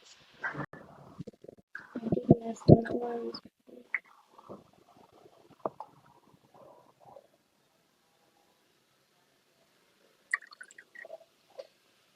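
Cold pressed coconut oil is poured into a transparent cup, giving a few faint, thick glugging and dripping sounds that come in short bursts with quiet gaps, then a couple of soft drips near the end.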